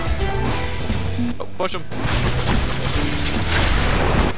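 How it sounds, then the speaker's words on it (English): Explosions in the video game Orcs Must Die! 2, heavy booming blasts and crashing impacts one after another over game sound, with players talking over the action. "Watch this. It's more explosions."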